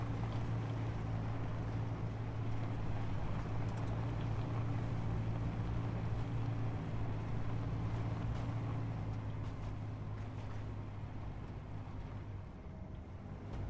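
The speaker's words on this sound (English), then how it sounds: "Just cruising with my little car over here." A small car drives around in the video game Space Engineers, giving a steady, droning engine hum that holds at even loudness throughout and fades slightly at the end.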